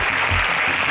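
A quiz contest audience breaks into a burst of dense, loud clapping that fills the whole short moment.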